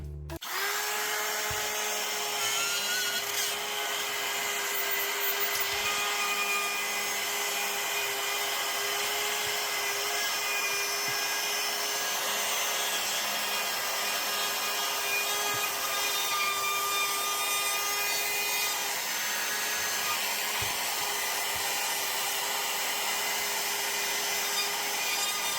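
A handheld router cuts through sheetrock drywall with a steady, loud whine and gritty rasp that runs continuously for the whole stretch, close by and with no talking.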